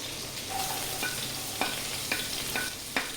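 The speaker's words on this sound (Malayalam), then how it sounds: "ബട്ടർ ഉരുകി കഴിയുമ്പോൾ നമ്മൾ ഈ അരിഞ്ഞു വെച്ചിരിക്കുന്നതൊക്കെ അതിലോട്ടിട്ട്, ആദ്യം ഇഞ്ചി, വെളുത്തുള്ളി," Chopped ginger, garlic and bay leaf fry in melted butter for tomato soup, a steady soft sizzle broken by several sharp scrapes of a spoon stirring the pan, close and even, with no talk.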